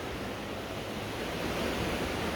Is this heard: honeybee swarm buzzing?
no